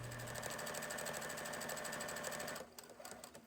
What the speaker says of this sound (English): we're going to sew, just to keep that a nice edge, all the way along that folded seam on each side